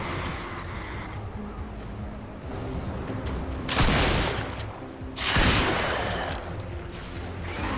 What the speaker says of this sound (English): This is a legendary shotgun